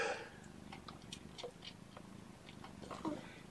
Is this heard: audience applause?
no